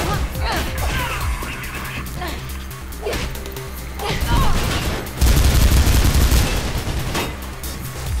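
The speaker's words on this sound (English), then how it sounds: "Another guy with a machine gun, I believe, right up here." Machine gun fire in the video game Mirror's Edge, with sustained rapid shooting, loud and dense throughout and heavier toward the end, over a background of game noise.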